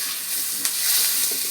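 Carrots are dropped into a hot pan for a Filipino caldereta, a steady loud sizzle with a brief clatter of stirring over the frying hiss.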